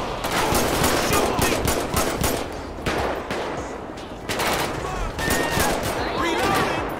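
Rapid, repeated gunfire in GTA 5 crackles loud and close in clustered bursts over a steady background, with someone talking at times.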